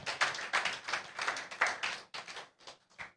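A church congregation applauds while taking their seats at a large festive service, a burst of dense, close clapping that thins and breaks into scattered claps toward the end.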